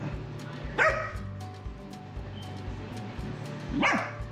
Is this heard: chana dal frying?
no